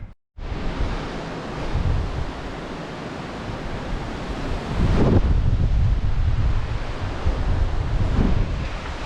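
Strong wind during a bike ride, a loud steady roar buffeting the microphone that swells even stronger partway through, with no talking.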